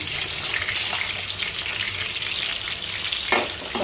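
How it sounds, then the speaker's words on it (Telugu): Green chillies and sliced onions fry in hot oil for a fish curry, giving a steady, close sizzle throughout with a couple of brief sharper crackles. "నూనె వేడెక్కింది కదండి పచ్చిమిర్చి ఉల్లిపాయలు మంచిగా వేసేయాలి ఆయిల్లో"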